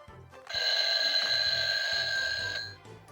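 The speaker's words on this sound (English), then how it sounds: "Some sort of ringing, which considering the fact that there's an alarm clock here" A small toy alarm clock on a Hi Hi Puffy AmiYumi Rockin' World Tour Bus toy rings in a continuous bright metallic trill for about two seconds, with faint tapping underneath, then stops.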